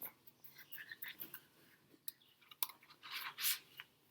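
Crisp papery rustling and soft slapping of large tarot cards being shuffled, in uneven bursts with a louder flurry near the end, close by and without speech.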